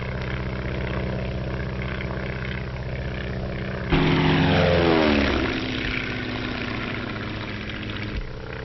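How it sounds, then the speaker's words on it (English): A 1935 propeller skywriting airplane drones steadily overhead, its engine note rising louder midway as it turns and passes, then settling back to an even hum with no talk. "the planes have to be strong, yet capable of a cruising speed of over 120 miles an hour"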